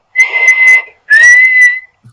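A voice imitates a guard blowing a whistle, giving two loud, shrill, whistled blasts in quick succession, each lasting over half a second, close and alone.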